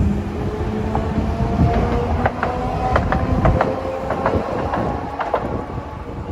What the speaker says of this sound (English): See, orange tram.